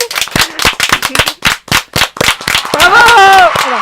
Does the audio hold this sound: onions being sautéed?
no